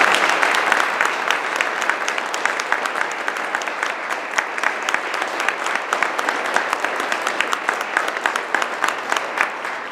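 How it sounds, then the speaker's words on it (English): An award ceremony audience breaks into sustained applause, a dense, even roar of many hands clapping that continues strongly for about ten seconds without pause. "would you give them a big round of applause?"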